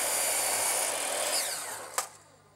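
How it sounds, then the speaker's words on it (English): A drop saw cuts through timber to make bench seat feet, with a high whining blade spinning down, followed by a sharp knock near the end as the cut finishes, then fading quiet. "I'm cutting it on the drop saw,"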